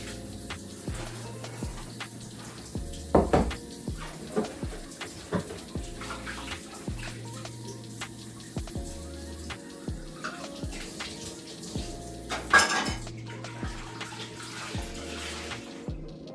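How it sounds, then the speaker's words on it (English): Tap water runs into a kitchen sink while a pan is rinsed out, in quiet, intermittent splashes and trickles with small clinks throughout. "I'm gonna wash this pan out a little bit because I'm gonna need this."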